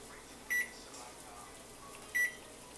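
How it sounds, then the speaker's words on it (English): Two short, clear electronic beeps about a second and a half apart come from a kitchen timer being set while eggs cook in boiling water, over a quiet background. "And I'm going to set my timer."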